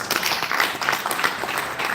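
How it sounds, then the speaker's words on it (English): Audience applause for presenters at a Uganda National Examinations Board event, a steady dense wash of many hands clapping at moderate volume for two seconds with no clear voices. "Maybe a big round of applause for our presenters."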